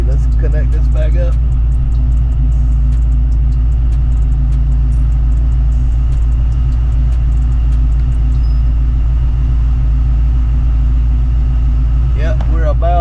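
A Foxbody Saleen Mustang with Holley EFI idles steadily at about 850 RPM, a loud, even low rumble throughout, with brief mechanical clicks near the start and end.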